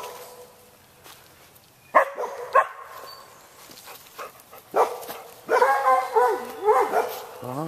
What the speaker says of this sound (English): Oh my goodness, the big dogs. They're saying something's over there.